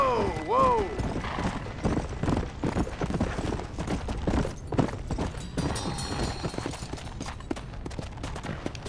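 Horse hooves clopping in the Red Dead Redemption video game as the rider pulls up and stops, irregular thuds under game sounds and someone talking, with a brief whinny near the start.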